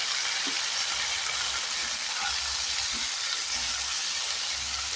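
Large and medium potatoes cook together in a pan as a curry, giving a steady, even sizzling hiss that stays constant throughout, close by with no talk.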